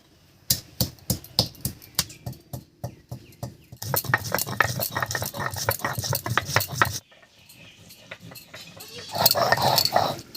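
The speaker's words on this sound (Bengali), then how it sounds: "এদিকে আমি গরম মশলাটা বেটে নিচ্ছি" Garam masala spices ground by hand, heard as a run of evenly spaced scraping and knocking strokes that quicken into a dense, steady grinding before dropping away into quieter kitchen clatter; no one talks.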